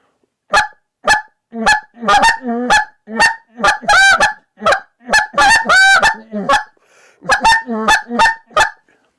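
High-pitched goose calls for lesser geese, made on a goose call, a run of sharp, rapid honks in quick bursts with short pauses, loud and close, with no other sound.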